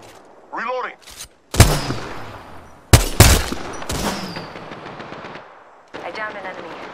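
Rapid automatic gunfire and sharp bursts in Apex Legends gameplay, loud and close, with repeated volleys separated by brief pauses and some game voice chatter underneath.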